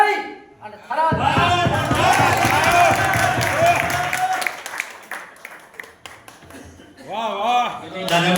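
An audience breaks into applause at a speech, dense clapping rising sharply and sustained for several seconds before thinning out, with a voice speaking over and after it.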